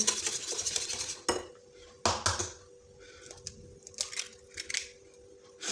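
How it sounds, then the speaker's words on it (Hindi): Eggs are mixed one at a time into semolina halwa in a pan, producing clinking utensil scrapes and taps against the vessel in irregular bursts, fairly close and moderately quiet, with no voices. "अब इसके अंदर 1 बाय 1 अंडा हम चेक करके डालते जाएंगे और मिक्स करते जाएंगे।"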